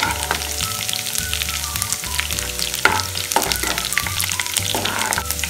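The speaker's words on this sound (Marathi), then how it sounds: "अशा प्रकारे आपल्याला अद्रक आणि लसूण तेलामध्ये घ्यायचं आहे" Ginger and garlic frying in oil for Schezwan chutney, with a loud, close, steady sizzle and crackle broken by repeated spoon scrapes and stirring knocks against the pan.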